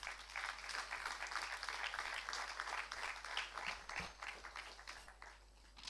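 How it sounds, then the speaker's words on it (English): An audience at the inaugural session of an IPER and CII international conference applauds a guest from the University of Delhi. The dense, continuous round of applause sounds fairly faint and distant and tapers off near the end. "A huge round of applause for sir."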